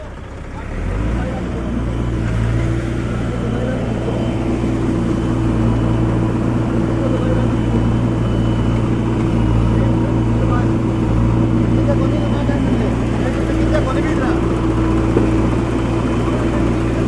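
A tractor engine drones loudly and steadily as the tractor drives up out of a canal it had fallen into, a deep, constant rumble that holds for the whole stretch.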